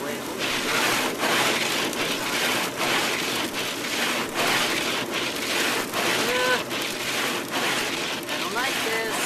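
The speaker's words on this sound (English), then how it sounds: "It's like I'm driving home in a rainstorm." Freezing rain rattles and patters hard against a car windshield during a December drive, a dense, continuous hiss of ice pellets with a voice speaking faintly beneath it.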